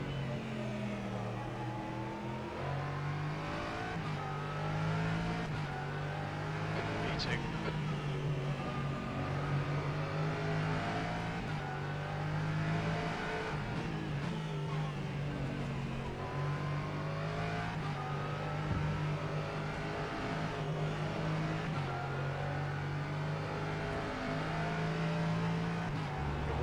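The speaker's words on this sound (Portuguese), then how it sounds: "Vou ligar o carro." A Norma M30 LMP3 race car engine in a racing sim, a steady loud drone with rising and falling revs through gear changes, continuous and close, onboard perspective.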